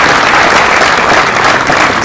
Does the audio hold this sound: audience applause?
yes